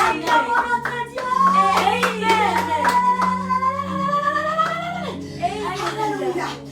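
A church congregation at a morning worship service claps in praise, a steady run of hand claps under a voice speaking and calling out throughout, with a short burst of clapping near the end.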